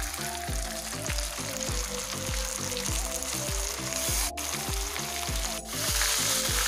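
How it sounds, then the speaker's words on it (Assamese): Spiced chicken meat hisses and crackles steadily in hot oil, with rhythmic scraping strokes of stirring repeating throughout, close and loud with no talking. "এতিয়া এই মাংসখিনি মই এই মছলাখিনিৰে মিলাই লৈ এতিয়া মই তেলত দি আছোঁ।"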